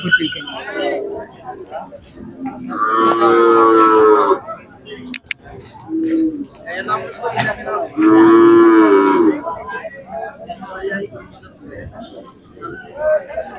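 A pair of Khillar bullocks for farm work at a cattle market in Sangola lows loudly twice in long, close moos, set against a low murmur of crowd chatter and voices.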